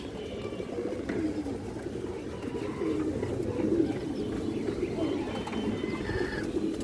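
A female pigeon coos in low, repeated throaty phrases, close and soft against a quiet background.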